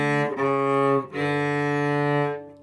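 A double bass, bowed, plays a short passage of three sustained notes, smooth and resonant, alone with no talking.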